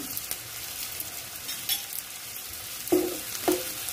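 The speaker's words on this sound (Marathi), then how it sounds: "थोडा लसूणला कलर आला की मग आपण कांदा घालून घेऊ, कढीपत्ता घालून घेऊ" Garlic, onion and curry leaves frying in oil, a quiet continuous sizzle close by, broken by a few sharp scrapes of stirring.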